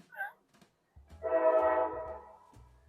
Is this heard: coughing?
no